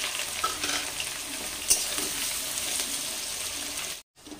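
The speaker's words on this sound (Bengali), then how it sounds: "পেঁয়াজগুলো এর মধ্যে দিয়ে দিচ্ছি" Chopped onions frying with black cumin seeds in hot oil, a steady dense sizzle with faint stirring scrapes throughout, close and continuous, cutting off abruptly near the end.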